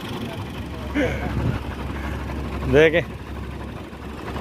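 A tractor with a lever fault idles during testing, a steady low engine rumble throughout while someone talks briefly over it.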